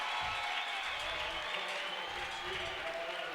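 Crowd applauding in a gym during a district basketball final between Creighton Prep and Millard West: steady dense clapping at moderate distance, with some thumps and crowd noise underneath.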